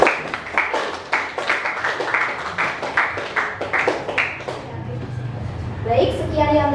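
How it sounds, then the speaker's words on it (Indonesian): A school class claps for a student group after a presentation, a short burst of scattered, uneven applause that gives way to someone speaking. "Tepuk tangan untuk kelompok"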